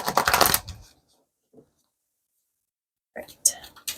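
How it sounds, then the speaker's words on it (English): Two bursts of rapid riffling, a shuffle of a tarot card deck up close, separated by a quiet pause with one small tap in between. "We're just gonna shuffle this deck one more time."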